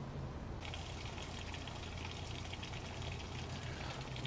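Water runs through a hose into an RV fresh water tank, a faint, steady rushing fill that continues unbroken.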